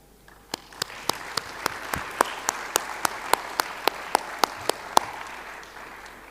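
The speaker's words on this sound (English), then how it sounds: "I want us to applaud them" Audience applause in a conference hall at a dialogue forum, with one close pair of hands clapping in a sharp, regular beat over a softer background of clapping from the crowd.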